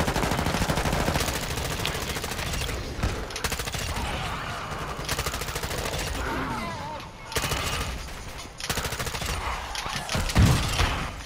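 Sustained rapid automatic gunfire from a weapon in Warzone 2 zombies mode, loud and near, rattling almost continuously with brief gaps and a sharp burst near the end.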